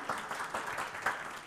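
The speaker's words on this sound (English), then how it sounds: "I already got the applause as an advantage and as a promotion." Audience applause at a science, policy and financing conference talk, a steady wash of clapping from a room of people lasting the whole moment at moderate level.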